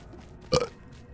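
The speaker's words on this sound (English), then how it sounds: "If I have not burped more than once this stream, let me fix that real quick." A single loud burp from a man, brief and close, standing out from quiet background noise.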